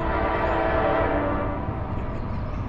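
A freight train on the Lehigh/Conrail line sounds a loud, sustained multi-tone horn blast close by, over the steady rumble of the passing train, lasting the full few seconds.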